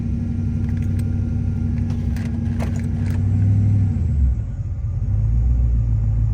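LS V8 engine (4.8, 5.3 or 6.0 litre) idling with a surging, stuck idle, a steady close rumble whose pitch shifts and dips midway before settling back, with light metallic jingling over it.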